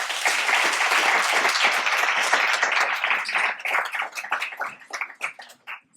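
Audience applause at a career talk event, a full, sustained burst of clapping that thins into scattered individual claps and dies away by the end.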